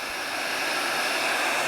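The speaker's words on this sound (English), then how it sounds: "sooner or later he'll hit it with a hairdryer" Hair dryer blowing heat onto molding rubber to draw out bubbles, a steady loud whoosh running unbroken from start to finish with no voices.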